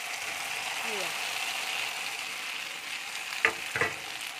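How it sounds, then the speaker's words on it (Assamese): Mixed vegetables fry with masala in a pan under a steady, close sizzle, and near the end two sharp scraping stirs ring out. "ধুনীয়াকৈ মই চব্জিখিনি ঢালি দিলোঁ"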